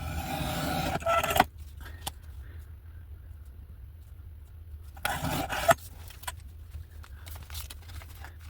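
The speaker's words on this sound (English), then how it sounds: "I'm going to just use my handy dandy old mat cutter" A handheld mat cutter slicing through card, giving two short rasping, scraping strokes at close range with a quiet pause between them.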